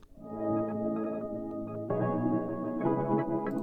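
Warm, sustained Juno synthesizer chords change a few times, full and steady at a moderate level, with no voices.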